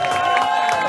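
A crowd at an outdoor concert on Kaiser-Otto-Platz applauds and cheers for the guitarist in one brief, steady wash of clapping, with a sustained musical tone underneath.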